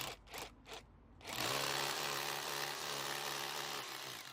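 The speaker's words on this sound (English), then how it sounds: "we're drilling 2 holes for this clip" A power drill whirs steadily and loudly for several seconds after a few short bursts, drilling holes to fit a back plate clip.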